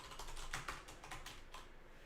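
Keys clack on a computer keyboard as an amount is entered, a quick run of soft, close taps with a few sharper strokes, heard quietly without speech.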